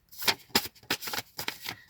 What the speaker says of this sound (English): I was asked to shuffle with my other hand.